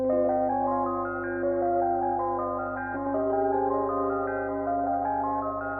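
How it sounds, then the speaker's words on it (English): Warm, mellow Rhodes electric piano chords sustained and gently changing, played alone with a soft, bell-like tone and a steady low hum beneath. "So together the Rhodes sound like this."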